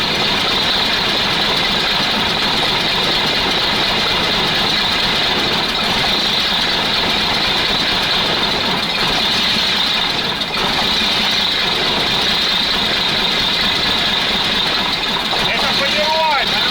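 A Praga V3S 6x6 truck's diesel engine idles after starting, a loud, steady, unbroken rumble close by for the whole stretch.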